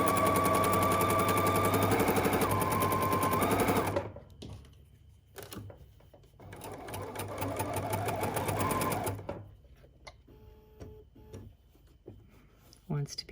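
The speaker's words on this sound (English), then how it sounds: "Then I go right into top stitching these pieces that we've ironed down" A sewing machine top stitches ironed fabric mask pieces in fast, loud rattling bursts, running long at first, then in shorter runs with pauses, while a person talks in between.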